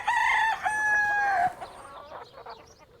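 Chickens at a pub: a close, loud rooster crow with a long drawn-out note, followed by softer scattered clucking from the hens.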